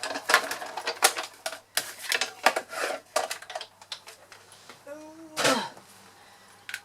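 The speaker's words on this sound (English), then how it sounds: "just popping it in the embossing folder and running it through" A Big Shot die-cutting machine cranks card through an embossing folder with a close, uneven run of clicks and clacks. Near the end there is a brief rising squeak.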